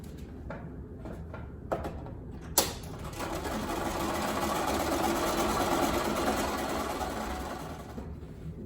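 A sewing machine stitches a patchwork pumpkin quilt block, its motor running in a steady continuous whir after a few brief clicks and knocks at the start, close and moderately loud.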